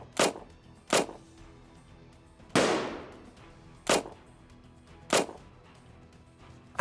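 Several sharp gunshots ring out at irregular intervals, each a crisp crack with a short echoing tail, one followed by a longer decaying roar.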